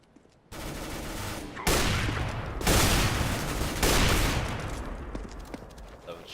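Dense, rapid gunfire bursts rattle in a competitive shooter game match, several sustained volleys of loud automatic shots coming close together, with a brief quieter gap before the first volley.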